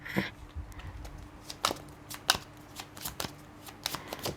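A deck of tarot cards is shuffled during a reading: close, crisp riffling and slapping of cards in irregular bursts, quiet, with no talking.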